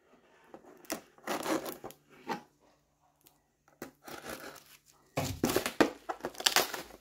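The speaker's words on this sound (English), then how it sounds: "Got to just cut this one open." Plastic toy packaging being cut open, heard as bursts of close crinkling, rubbing and tearing separated by short pauses, with a louder, denser stretch toward the end.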